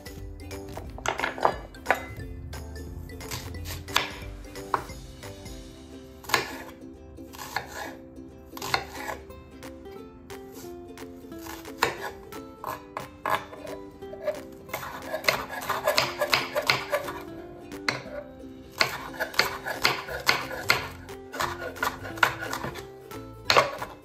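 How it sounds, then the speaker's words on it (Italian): A knife chops fresh onion rapidly against a cutting board in uneven bursts, close up, with occasional clinks and pauses between runs. "Andiamo a tritare la nostra cipolla fresca."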